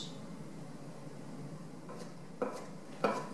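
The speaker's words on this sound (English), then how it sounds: "So I finished the mozzarella, slicing the mozzarella" A knife slices through fresh mozzarella on a cutting board, giving a few soft, separate taps and thuds against a quiet kitchen background.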